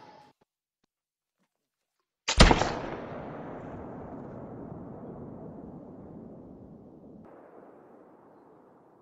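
A single loud .308 Moonlight rifle shot cracks out in a red deer hunting video game, set in a canyon, then rolls into a long echoing decay that fades slowly over several seconds, with no talk.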